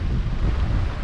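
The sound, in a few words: wind blowing on the coast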